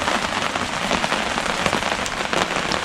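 Steady rain pours down at a campsite in Maquoketa Caves State Park, Iowa, a dense continuous patter of drops on a surface close by, with no voices.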